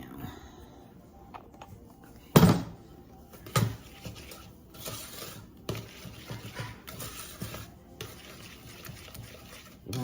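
A spoon stirs a pecan praline sugar mixture in a pot, making soft scraping and liquid sloshing sounds with a few sharper knocks against the side, at an irregular rhythm and moderate volume.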